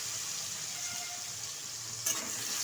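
Eggplant pieces frying in hot oil with turmeric give a soft, steady sizzle, with a brief clink or stir near the end.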